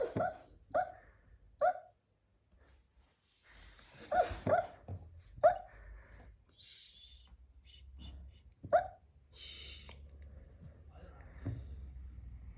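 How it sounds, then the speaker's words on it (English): A dog whimpering in its sleep during a nightmare gives a series of soft, high whimpers and yips in short bursts, close by, with brief quiet gaps and faint shuffling between them. "Can you hear my dog having a nightmare?"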